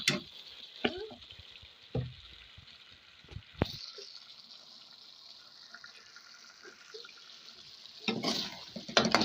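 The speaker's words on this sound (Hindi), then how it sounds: "एक चम्मच जो है वो मैं ऑयल की डाल लेता हूँ इसके अंदर" Oil poured into a cooking pan sets off a soft, steady sizzle that lasts several seconds, broken by a few sharp clatters of a spoon and utensils, with louder stirring noises near the end.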